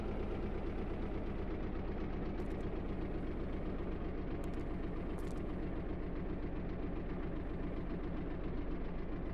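A vehicle engine in the game Stormworks labours near stalling with a steady, low, rough chugging pulse. It is constant and close, and no one speaks.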